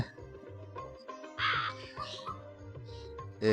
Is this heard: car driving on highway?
no